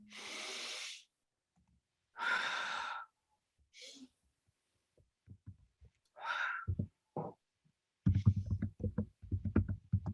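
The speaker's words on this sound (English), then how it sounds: "You can close your right nostril and try to breathe with the left nostril." Slow breathing through the left nostril during a heartfulness relaxation exercise: several long, airy breaths in and out with pauses between, fairly close, followed by soft thumps and rustling.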